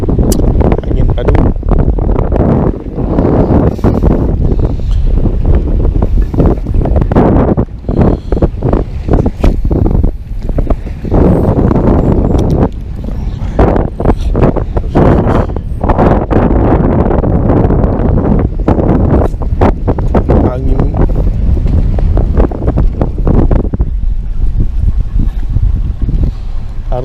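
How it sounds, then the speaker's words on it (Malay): Strong wind buffets a fishing boat out at sea off Langkawi while squid fishing, a loud steady roar with gusty rumble and rustle filling the whole span as people talk over it. "Angin padu."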